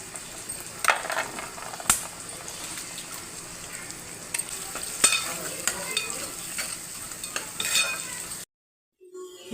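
Eggs fry in hot oil in a pan seasoned with salt and chili powder, a crackling sizzle broken by spatula scrapes and light metal clinks, then a sudden cut to near silence.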